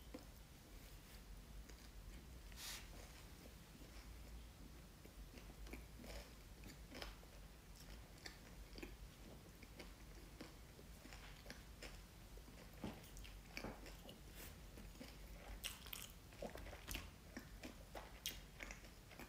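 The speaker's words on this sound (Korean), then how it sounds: "지금 내가 씹는 소리도 들리나?" Close, soft chewing and biting during a seasoned dinner eaten mukbang style, with small crunches and wet mouth sounds repeating steadily under a constant background hiss.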